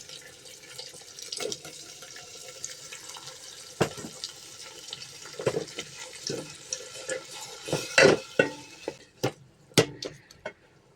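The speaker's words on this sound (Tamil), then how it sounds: "இந்த அரைச்சி வச்சுருக்கிற வெங்காயத்தை 2 நிமிஷம் லோ ஃப்ளேமில் வந்து அடுப்பில் வதக்குங்க." Ground onion paste cooked in a pan over a low flame for a fish curry gives a soft background sizzle, broken by irregular scraping and knocking from a spoon stirring against the pan that grows busier toward the end.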